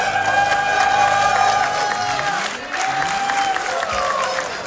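A crowd at a speedrunning event cheers and applauds steadily over loud game music, with clapping and whoops filling the room continuously.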